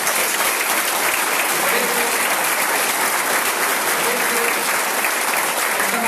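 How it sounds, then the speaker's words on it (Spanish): Dense, steady applause from an audience fills a political presentation event in Spain, a continuous loud wash of clapping with a faint voice underneath. "aunque el aplauso es siempre gratificante y emociona"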